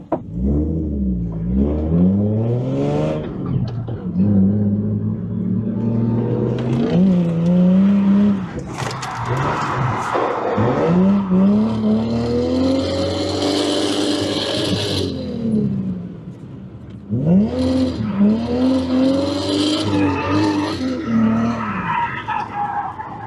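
Cheap car drifting through corners, engine revving hard in rising and falling sweeps with tires skidding and squealing, loud and close throughout, with brief dips between runs.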